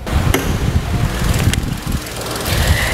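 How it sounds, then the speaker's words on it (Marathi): A Tata Nexon XM S petrol car idles in a showroom with its hood open, a close, steady low engine rumble with a few light clicks and rattles on top. "हे जे नॉर्मल व्हायब्रेशन तुम्हाला दिसत आहेत हे प्रत्येक कारमध्ये असतात आणि हा आहे आवाज इंजिनचा"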